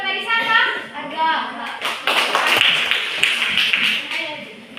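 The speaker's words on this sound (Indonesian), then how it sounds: "Tepuk tangan buat tadi siapa?" Classroom of children clapping for a classmate, a burst of close hand claps and taps mixed with kids' chatter and voices throughout.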